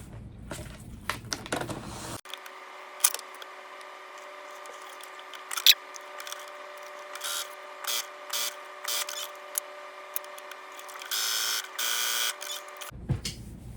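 A sewing machine zigzag-stitching on a blue T-shirt with white thread gives a steady motor hum for about ten seconds, broken by short bursts of mechanical clatter. Quieter handling noises come before and after.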